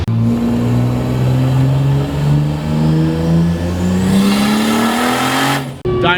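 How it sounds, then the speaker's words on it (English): A turbocharged BMW E36 on a dyno roars loudly as the engine climbs steadily in pitch through a long pull, then abruptly cuts off near the end. "Dyno noise is so loud."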